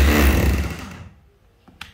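A 220V electric concrete chisel hammer runs loud and close, then winds down and fades within a second, followed by a couple of faint clicks and a small knock.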